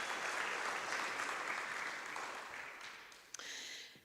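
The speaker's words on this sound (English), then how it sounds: "Give him another round of applause." Fairly quiet applause from a church congregation after a song, continuous at first and gradually thinning and fading toward the end, with a single sharp clap standing out near the close.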